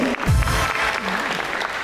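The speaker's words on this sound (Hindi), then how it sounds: "तालियां भाई तालियां" A burst of clapping from a talk show studio audience, steady and fairly loud for a couple of seconds, with a brief voice-like tone mixed in.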